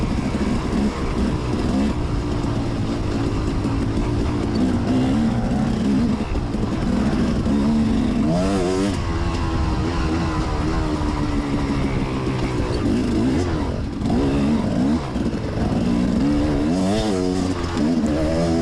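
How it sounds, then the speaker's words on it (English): A KTM 300 two-stroke dirt bike engine climbs a hill at a hare scramble, revving and bogging in rough, repeated surges that stay loud and close throughout. "I feel like I got this KTM 300 two-stroke dialed in now."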